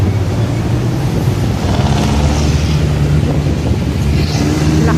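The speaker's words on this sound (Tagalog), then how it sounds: "Lakas ng hangin." Strong wind buffets the microphone on an overpass in a busy city area, a loud, steady rumble with low traffic noise mixed in and no talk.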